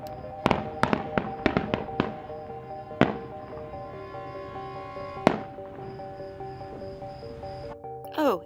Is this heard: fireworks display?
yes